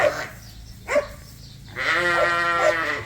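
Suffolk sheep in a field bleat close by: two short calls, then one long wavering bleat that holds for over a second, with faint background noise and no talking.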